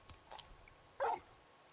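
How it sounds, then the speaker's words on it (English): Torgal, the big dog from Final Fantasy XVI, lets out a few soft whimpers, then one short, louder bark up close. The sounds are brief, over a quiet background. "You're just a big puppy, aren't you?"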